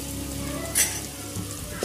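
Green chili, garlic and ginger frying in a pan for spring roll filling, a steady close sizzle with a brief brighter crackle partway through.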